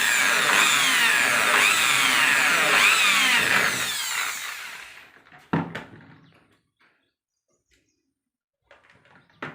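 A power drill whines loudly and steadily for several seconds while fixing a door lock, then stops, followed by a few short knocks and quiet handling sounds.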